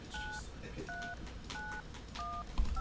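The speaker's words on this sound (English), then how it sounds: "So I'll dial this number." A telephone number is dialed live at a fundraising event, giving a series of short two-tone keypad beeps at a steady rhythm over a background of low room noise and faint talk.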